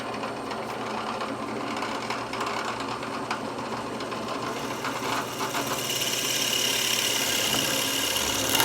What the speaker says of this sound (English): going to go ahead and drill that out for 3/8 on each of the sides where that failure occurred